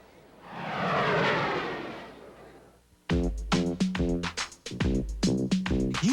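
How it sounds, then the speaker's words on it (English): A jet airliner in a US Air commercial swells and fades in a broad rushing roar for about three seconds, then a loud burst of music or voices takes over. "I heard U.S. Air has more than 350 daily jet departures in California."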